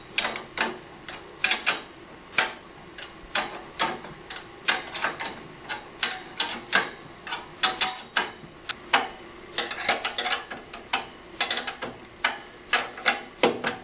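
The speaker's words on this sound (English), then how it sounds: "Now I can tighten all the nuts and secure the backboard even more." A ratchet wrench clicks rapidly and steadily in short repeated bursts while nuts are tightened to secure a Lifetime basketball backboard during assembly. The sound is close and clear, with no voices.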